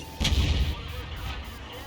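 A single heavy tank cannon shot in a World of Tanks-style battle with the T95, booming loud and close with a low rumble that rolls off over the following second.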